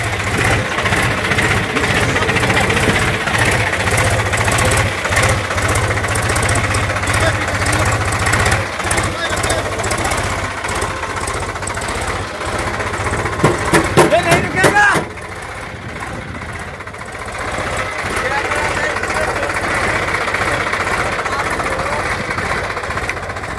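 A diesel tractor engine, Sonalika or Powertrac six-cylinder, idles at slow revs with a steady, knocking low rumble and some rattling, close by, while someone talks over it.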